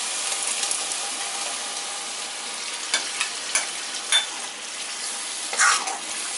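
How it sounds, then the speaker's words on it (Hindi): Spinach puree poured into a hot pan for palak paneer, giving a steady hissing sizzle with a few sharper bubbling pops and light stirring clicks scattered through. "अब मैं इसके अंदर पालक की प्यूरी डाल रही हूँ।"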